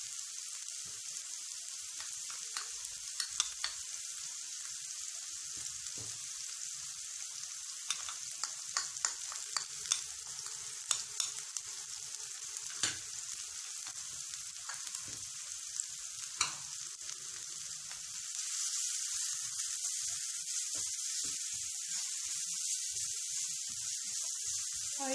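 Spices crackle and fry in a little oil for a semolina and pea snack, a steady close sizzle with scattered sharp pops and stirring clicks, the frying growing louder and denser toward the end.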